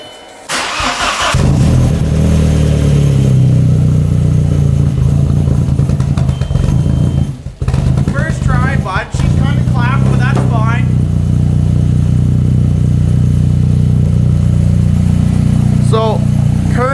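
An Audi with a suspected blown turbo cranks and fires up after weeks of sitting, then settles into a loud, close running drone, with someone talking over it.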